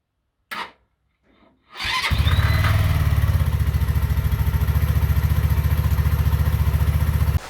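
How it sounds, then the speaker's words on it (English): On a Mutt Mastiff 125 motorcycle, the starter motor is heard after a couple of short clicks. It cranks with a loud, rapid, rhythmic churn that runs steadily for several seconds and then cuts off. "check what happened when you operated the starter to the battery voltage"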